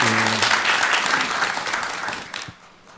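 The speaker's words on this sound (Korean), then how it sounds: "우리 영광의 박수를 우리 하나님께 올려드리겠습니다" A church congregation at a Korean Sunday worship service applauds with dense clapping that gradually fades out, with a brief low voice tone at the start.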